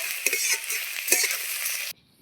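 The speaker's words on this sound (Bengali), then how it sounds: "ভাজতে ভাজতে কিন্তু পাতাটা অনেকটাই কমে এসছে" Taro (mankochu) leaves frying in a pan, a steady close sizzle with stirring scrapes and clinks for about two seconds before stopping abruptly.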